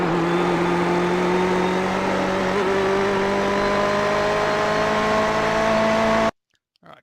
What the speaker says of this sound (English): I'll be on the throttle well before exit